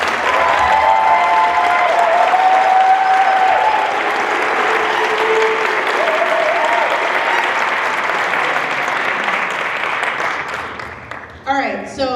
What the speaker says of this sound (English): can we give all of our students a round of applause?